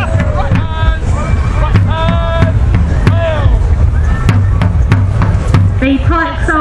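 Strong outdoor wind buffets the microphone at an English Civil War reenactment with pike and musket blocks, giving loud gusty rumble throughout while people shout and talk nearby.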